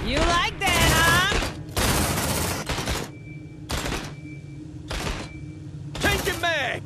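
Bursts of rapid gunfire from squad weapons in the sci-fi game Aliens: Dark Descent, loud and repeated in several volleys with short pauses, mixed with shouted voices and combat sound effects.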